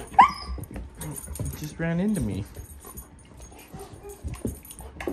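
A 4.5-month-old Irish Setter puppy named Red lets out a sharp yelp, then a drawn-out whimpering whine indoors near a doggy door, followed by small thumps and someone speaking.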